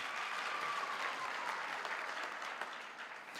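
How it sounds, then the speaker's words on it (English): Round of applause from the crowd at a Walter Sisulu University graduation ceremony, a broad, even wash of many hands clapping at a distance, quiet overall and sustained the whole time. "I want us to give that a round of applause, ladies and gentlemen"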